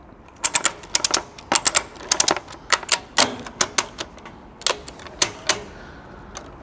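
A ratchet strap being tightened over a lorry load, its mechanism firing off quick bursts of sharp metallic clicks in irregular clusters, close and distinct against a quiet background.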